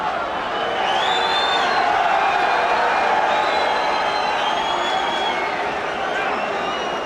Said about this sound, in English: that little roar of the crowd was the arrival of Donald Trump with Marla Maples